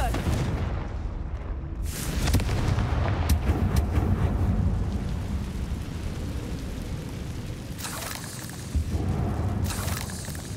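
A Confringo blasting spell in Hogwarts Legacy sets off a loud, sustained rumbling explosion with crashing debris that fills the whole stretch, swelling again near the end.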